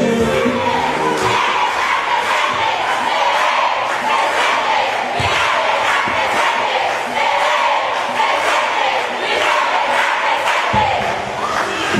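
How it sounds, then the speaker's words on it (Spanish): A crowd at a political rally for a council candidate, at a stage inauguration, keeps up continuous cheering, shouting and applause, with occasional thumps and a loud dense roar throughout. "Fuerte el aplauso para él."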